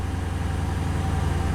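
A used police car bought at a government auction, 183,000 kilometres on it, idles steadily after starting, with a low, even engine rumble that holds constant throughout with no talk over it.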